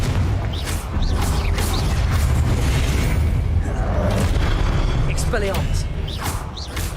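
Confringo blasting spell explosions from Hogwarts Legacy, a string of heavy booming blasts with crackling debris rolling one into another, loud and continuous with game effects layered over them.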